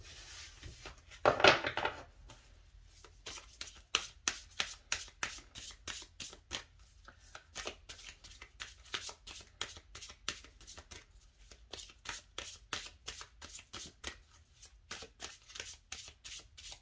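Lenormand cards being shuffled by hand, a long run of crisp riffling snaps and soft slaps in an uneven rhythm, close up and fairly quiet, with a louder flutter early on and no talking.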